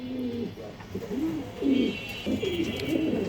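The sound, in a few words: pigeons cooing, breeding pair in a loft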